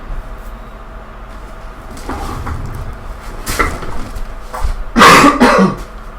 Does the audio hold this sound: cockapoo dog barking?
no